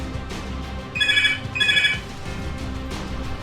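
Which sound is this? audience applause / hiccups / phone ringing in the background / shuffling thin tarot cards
phone ringing in the background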